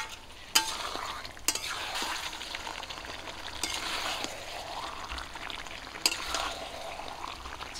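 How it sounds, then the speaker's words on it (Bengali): Chicken stir-fries in its own juices in a pan, a soft bubbling sizzle punctuated by a few sharp spatula knocks and scraping strokes, close and fairly quiet. "এই জলেই যে রসটা আছে এই রসেই আমি কষিয়ে নেব।"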